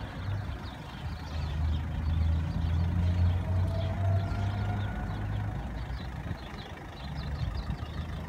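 A car engine idles low and steady while the car is parked during a driving practical test, a moderate rumble that rises slightly in the middle, with no talk over it.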